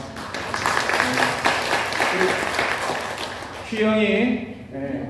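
A church congregation at a Thanksgiving Sunday service claps steadily for several seconds, then a voice begins talking over the fading applause.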